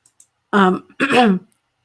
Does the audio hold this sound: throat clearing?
yes